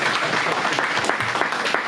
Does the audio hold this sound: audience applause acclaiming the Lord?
yes